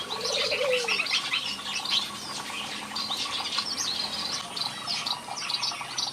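A mix of small colorful finches chirps and tweets in a huge aviary, with many overlapping high calls close and far, a brief lower whistle early on, and faint wing flutters in the background.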